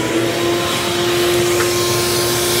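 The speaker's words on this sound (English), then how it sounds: "Luckily, my shop vac is a big fan of these." A shop vac runs steadily at close range, sucking rodent droppings out of a car engine bay, its motor drone holding an even, loud hum with a constant tone and no voices.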